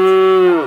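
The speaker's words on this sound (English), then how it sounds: "It's a cow." A cow gives one loud, close moo lasting under a second, steady and then sliding down in pitch as it fades out.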